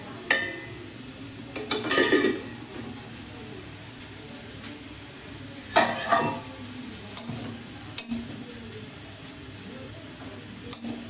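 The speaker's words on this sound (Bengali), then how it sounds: "এদিকে সজনা শাকটা দিচ্ছি," Drumstick (sajna) greens are stirred in a pan with a soft, steady hiss and a few scraping clatters of the spatula, quiet and close, with no talk.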